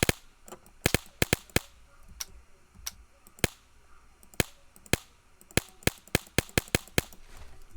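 Video game gunfire from a bipod-mounted weapon in the ACS mod, sharp single shots cracking out at irregular intervals, spaced apart early then coming quicker toward the end, over a faint background hum.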